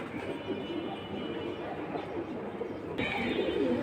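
Pigeons of a tota-phase breed, from a high-flying stock sold as pairs, coo softly and repeatedly at close range against a steady murmur of background noise, the calls louder toward the end.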